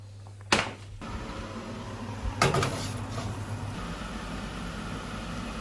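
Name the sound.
putting seared lamb into the oven, oven door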